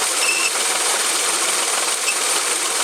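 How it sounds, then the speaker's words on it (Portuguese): A Hyundai HB20 1.0 three-cylinder engine hums loudly and steadily, with a thin whine from the engine pulley rising when revved, recorded close up in the engine bay with no voices. "Quando acelera, o assobio aumenta"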